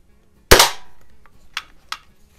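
A single sharp crack from an Air Venturi John Wayne Lil' Duke lever-action BB gun, loud and close, followed by a few fainter clicks and taps as the action is worked.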